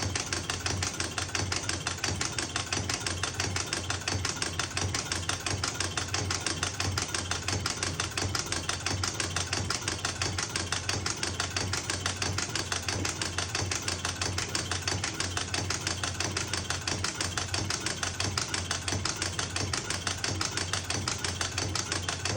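Engine idling steadily during an idle speed adjustment, a continuous rapid knocking throb that holds loud and even throughout with no talk.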